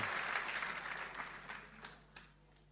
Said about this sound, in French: Je voudrais demander de l'applaudir.